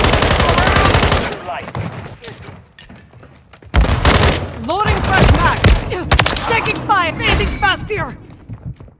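Automatic weapons rattle in sustained rapid bursts in Call of Duty: Modern Warfare 3 war mode, loud and close, with a brief lull and voices shouting over the battle.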